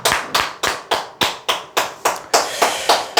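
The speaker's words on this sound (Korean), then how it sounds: "박수 한번 치시죠" Applause at a sales coaching session, with hands clapping in a steady, even rhythm of about a dozen sharp, loud, close claps and no voices over them.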